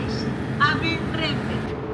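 Heard from inside a running Renfe passenger train, a steady low rumble of the carriage carries on under a person talking.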